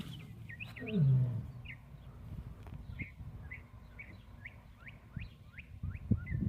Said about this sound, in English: There was a little bit of lion roars.